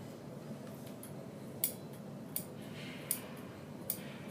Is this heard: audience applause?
no